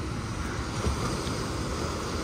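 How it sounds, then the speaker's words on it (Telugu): Strong ocean waves breaking at a rocky beach in the morning, a continuous heavy wash of surf mixed with wind buffeting the microphone, steady and loud throughout. "అలలు అయితే చూడండి ఘోరంగా అంటే ఘోరంగా వస్తున్నాయి"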